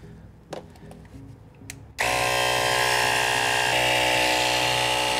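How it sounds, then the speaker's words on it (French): A small, very quiet portable air compressor switches on abruptly and runs with a steady, loud motorized hum and whine while pumping up a car tyre on a 1997 Mercedes E280 W210. "ce que vous entendez, c'est un petit compresseur super silencieux"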